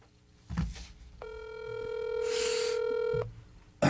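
A telephone call ringing out, a single sustained electronic ring tone after a few faint knocks, with a brief noisy burst at the end and no speech.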